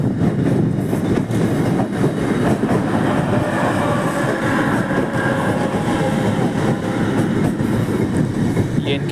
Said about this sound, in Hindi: तो ट्रेन आ रही है।